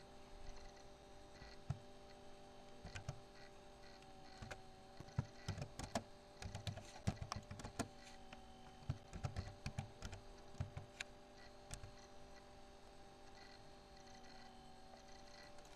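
Typing on a computer keyboard while writing a Word document, with irregular clusters of soft, faint key clicks over a steady electronic hum and no talking.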